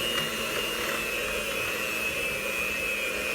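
Electric mixer whirring steadily through Hershey Kiss chocolate cookie batter with added milk, a close, continuous motor hum with a high whine and no pauses.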